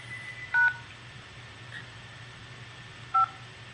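Two short, loud phone keypad tones ring out about two and a half seconds apart over a quiet background hum, as buttons are pressed while trying to hang up a phone call.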